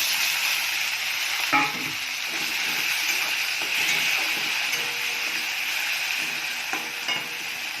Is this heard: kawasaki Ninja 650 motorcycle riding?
no